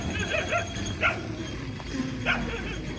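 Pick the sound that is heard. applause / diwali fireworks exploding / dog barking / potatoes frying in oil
dog barking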